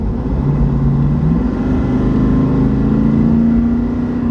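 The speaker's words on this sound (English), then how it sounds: "That was like a quarter throttle, and a quarter throttle is like full throttle normally." A tuned Nissan Titan XD pickup with an EZ Link tune pulls hard, its engine droning loud and close with a steady hum that climbs gradually in pitch as the truck accelerates, no voices over it.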